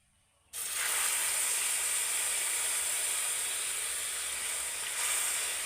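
Hot milk poured into caramel in a pan sets off a sudden loud hiss that swells into a steady, close sizzle and steam rush, holding strong for several seconds.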